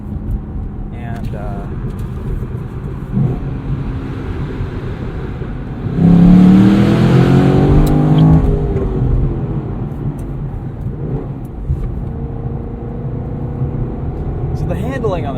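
A 2017 Chevrolet SS sedan with manual gearbox in performance mode, its engine note swelling loudly as it accelerates mid-clip and then settling back to a steady cabin rumble, heard from inside the car.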